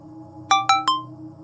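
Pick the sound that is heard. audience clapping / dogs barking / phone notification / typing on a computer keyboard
phone notification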